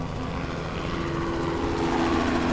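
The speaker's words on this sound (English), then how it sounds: "Oh, helicopter." Helicopter flying overhead in an indie horror video game, a continuous rhythmic rotor drone with low throbbing pulses, moderately loud and steady throughout.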